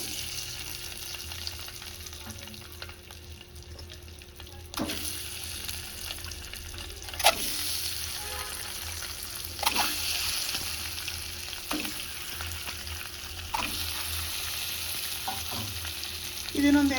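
Boiled eggs fry in masala for an egg curry, a close, steady sizzle punctuated by regular scraping and knocking of a spoon stirring the pan, with no speech.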